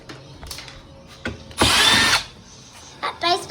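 A power screwdriver on a Samsung TV being taken apart, running in one loud, steady whir lasting about half a second, with softer clicks and handling knocks before and after.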